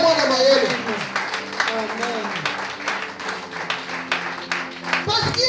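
A church congregation claps and applauds during a sermon, a dense, lively patter of many hands under a preacher's voice and crowd noise.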